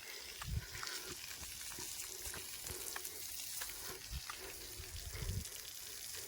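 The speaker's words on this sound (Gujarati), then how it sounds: "તો તમને બતાવું હું પાછળ પાણી છાંટે છે એ, તો તમે જોઈ શકો છો એ પાણી છાંટે આપણે એ" Water sprays from behind onto a newly built road near a farm field, a continuous faint hiss and splatter with occasional low thumps and splashes.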